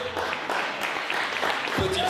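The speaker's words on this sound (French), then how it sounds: "Ils sont là, applaudissez-les." Audience applause at a café concert evening of gwo ka and maloya music, a crowd clapping steadily at moderate loudness, mixed with voices and chatter throughout.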